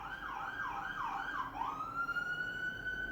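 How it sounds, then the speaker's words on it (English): An ambulance siren passes at a distance, a rapid wailing yelp cycling several times before settling into a long steady rising tone, faint over low background hum with no voices. "Ambulance."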